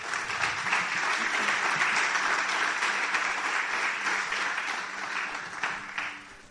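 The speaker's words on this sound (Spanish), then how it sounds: "Dale un fuerte aplauso al Señor" A church congregation gives a loud, sustained round of applause to the Lord, dense clapping that fills the room and fades slightly near the end.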